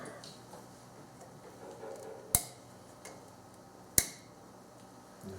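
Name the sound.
clip snapping into place on Subaru power steering pump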